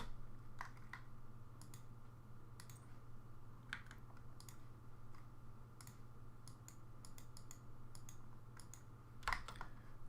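Typing on the stock keyboard that came with a desktop computer, scattered soft key clicks at an uneven pace over a steady low hum, faint and close, with no one speaking.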